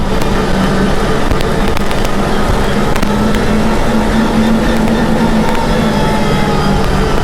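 Loud, continuous diesel roar from a Kubota MK5000 tractor engine held at high revs, close and unbroken, with a faint wavering tone through the middle and no talking.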